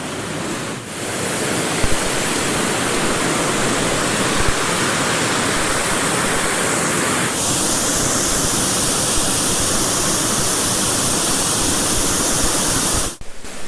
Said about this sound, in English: we're hitting the top of the waterfall